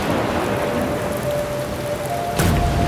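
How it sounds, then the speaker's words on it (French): Steady, heavy rain pours down in an animated children's story, a dense continuous hiss with a low rumble of thunder swelling near the end, loud and close with no voices. "peut-être même que la pluie ne s'arrêtera pas avant le chant du premier coq"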